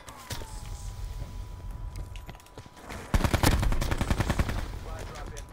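Gunfire in the video game Call of Duty Blackout crackles in scattered shots and then a dense burst of rapid automatic fire partway through, loud and close.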